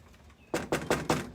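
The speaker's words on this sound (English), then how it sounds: "I'm gonna knock on this window really hard and hope that she hears through her earbuds." Someone knocks hard on a window of a house with four loud, evenly spaced raps after a short quiet pause, each knock sharp and close.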